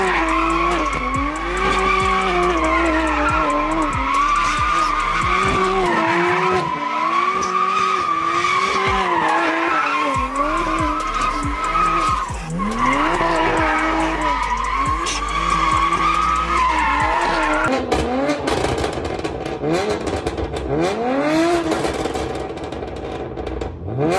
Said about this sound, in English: This car was also prone to burning rubber and getting sideways.